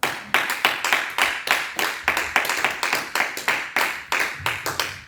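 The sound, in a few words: congregation applauding the Lord in church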